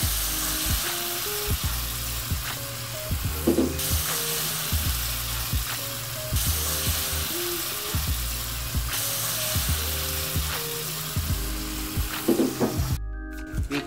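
Shrimp sizzling in a pan with garlic and marinade for garlic butter shrimp, a steady loud frying hiss with stirring clatter running throughout, no talk.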